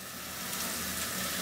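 Chopped carrots and onions stir-frying on high heat for vegetable fried rice, a brief dense hissing sizzle close up, steady and loud throughout.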